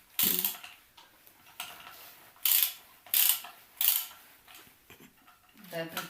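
Bolts being turned while sealing jars of tomatoes, a few loud raspy ratcheting bursts separated by pauses, with scattered clicks and some voice nearby.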